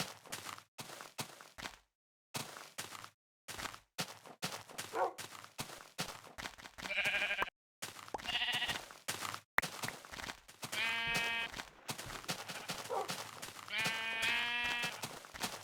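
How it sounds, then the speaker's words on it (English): Sheep in a field bleat several times, loud and close, with other calls further off and soft footsteps or movement between them; quiet gaps separate the bursts. "Look at all these sheep. The field of sheep."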